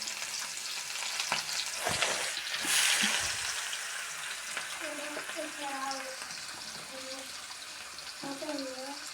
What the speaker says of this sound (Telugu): ఈ ఆనియన్స్ అనేవి వేసేద్దాం. ఫ్రై మన అంటుంది.